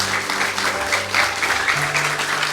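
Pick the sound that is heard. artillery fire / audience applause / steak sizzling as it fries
audience applause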